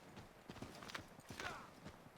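Horse hooves pounding at a sprint in Assassin's Creed 3 Remastered, a rapid clip-clop rhythm, fairly quiet and steady across the moment.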